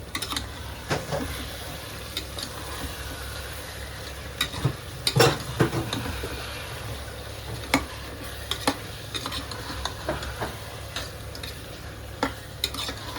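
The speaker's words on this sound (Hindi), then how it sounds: "हमने इसमें शामिल कर दिया मटर, इसकी करते हैं अब अच्छे से भुनाई" Green peas roast in a pan for veg pulao, a soft steady sizzle beneath frequent sharp scrapes and clinks of a spoon stirring against the metal, with no talking.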